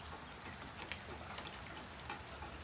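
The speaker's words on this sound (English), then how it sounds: "it's raining outside" Steady light rain falling outside on a cold morning, a soft continuous patter with scattered drips, faint and fairly distant throughout.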